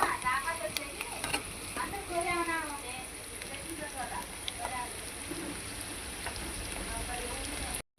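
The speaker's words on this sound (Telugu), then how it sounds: "ముందుగా అయితే ఆయిల్ పోసి ఆయిల్ హీట్ ఎక్కిన తర్వాత ఆనియన్స్ వేసాను" Onions frying in hot oil for a bitter gourd and egg curry, giving a steady close sizzle and crackle under intermittent talking throughout.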